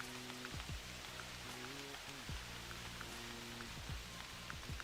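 Continuous rainfall in theHunter Classic, with a dense patter of drops on the ground and foliage that stays uniform across the short stretch, with a soft recurring low hum beneath it and no voices.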